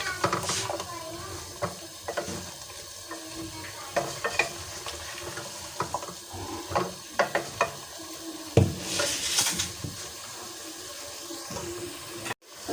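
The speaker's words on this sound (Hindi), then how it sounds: "और इसको मैं अच्छी तरह से मिक्स कर लूँगी।" Carrots and vegetables stirred and frying in a pan, steady sizzle under repeated scraping and clanking of a spoon against the pan, close and fairly loud.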